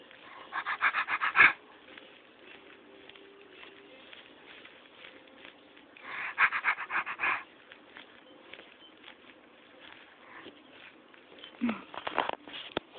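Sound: voice imitating a dog

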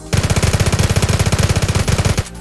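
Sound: MP9 submachine gun firing, from a video game

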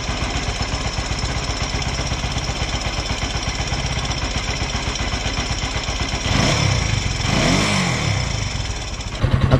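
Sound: motorcycle engine idling

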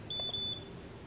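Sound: printer beeping while warming up

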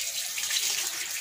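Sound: water running while rinsing makeup brush

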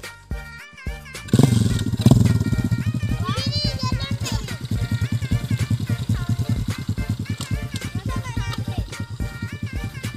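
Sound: Lenka 110 cc mini trail motorcycle engine

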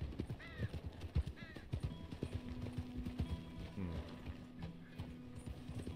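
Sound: horse hooves and whinny in video game

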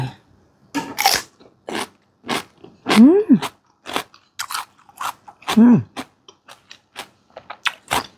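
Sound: person biting and eating food

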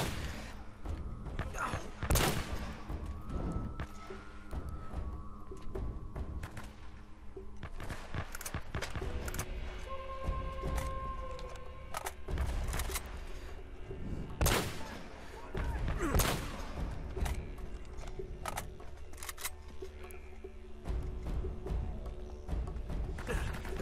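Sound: gunfight gunfire in Uncharted: Drake's Fortune video game

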